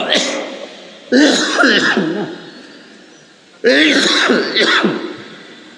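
A man coughs and clears his throat because of dust, in two sharp, close bursts about two and a half seconds apart, each fading out slowly.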